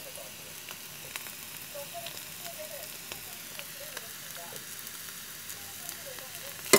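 Crumbled tofu and egg stir-frying in oil in a pan, a close continuous sizzle and crackle with faint scraping, under occasional quiet background voice.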